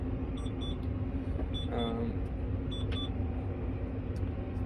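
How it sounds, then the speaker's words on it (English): Short electronic warning beeps from a New Holland T7 tractor in small clusters repeat over a steady engine drone, with a brief warbling tone mid-way; the beeping is moderately loud against the rumble. "Tractor's beeping at me again."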